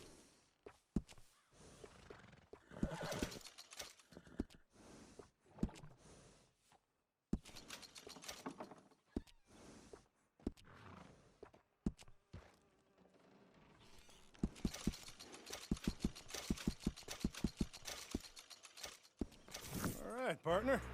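Horse hooves clip-clop in the Red Dead Redemption 2 video game, steady footfalls running through much of the stretch with a brief whinny, mixed with in-game talk and scattered background effects.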